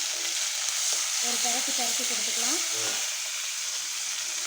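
Cumin, fennel, garlic and curry leaves fry in hot oil for a pea curry, giving a steady, close broadband sizzle throughout, with a short warbling tonal sound rising over it in the middle.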